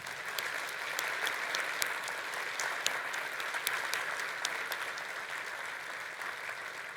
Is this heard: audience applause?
yes